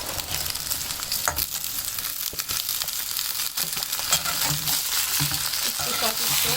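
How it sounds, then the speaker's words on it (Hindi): Potatoes, peas, cumin and black pepper fry in a pan for vegetable pulao, giving a dense, continuous sizzle close up. Scraping and crinkling stirs come through at irregular moments. "इसके साथ इसको मिक्स करेंगे, भूनेंगे थोड़ी देर के लिए, तकरीबन 3 से 4 मिनट के लिए मैं इसको फ्राई करूँगी"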